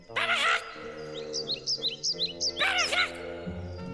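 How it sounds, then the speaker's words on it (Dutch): Call of a healthy Eurasian jay: harsh, rasping screeches near the start and again toward the end, with a run of short chirpy notes in between, loud and close over a low steady background. "En nu het geluid van een gezonde hanekau."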